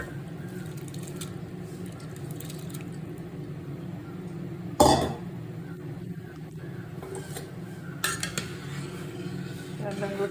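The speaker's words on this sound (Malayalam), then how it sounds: "ചെറുപയർ പരിപ്പ് കൂടി ഇട്ട് കൊടുക്കാം." Split moong dal is tipped into a cooking pot for Makara pongal, a single brief rattling pour midway, followed later by lighter pot clinks over a low, steady background.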